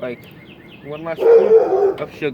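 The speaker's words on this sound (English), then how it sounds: "that's my dog" A pet dog barks a few times, a short loud burst of rough yelps partly overlapping a person talking nearby while cooking flatbread outdoors at the edge of a yard.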